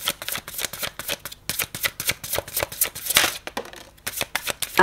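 Tarot cards are shuffled close to the microphone in a quick, steady run of crisp riffling flicks and slaps, with only a short pause in the rhythm.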